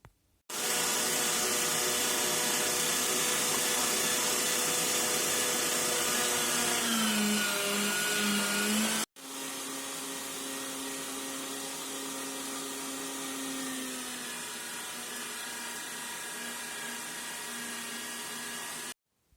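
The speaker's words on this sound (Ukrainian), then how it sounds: "перепускаємо наше сальце туди ж у мисочку, на міленьку цю сіточку, на м'ясорубку" An electric meat grinder mincing pork fat through a fine plate, a steady loud motor whine that runs unbroken, cuts out briefly, then resumes at a slightly lower pitch with the load shifting.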